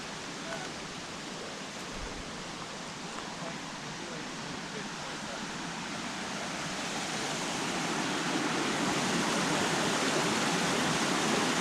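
Little Zigzag River flowing beside a forest trail fed by snowmelt, a steady broadband rush of water that swells slightly louder toward the end, continuous and close.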